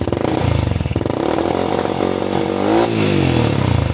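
A Rusi 125 motorcycle engine runs close by with a rapid, buzzing putter, then revs briefly with a rising pitch near the end before settling back.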